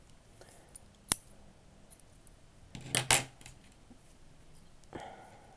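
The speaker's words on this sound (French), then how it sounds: "Donc là on va pouvoir couper notre fil." Sharp, brief snips of scissors cutting crochet yarn, a few isolated clicks with a louder double cut near the middle, close and quiet in an otherwise still room.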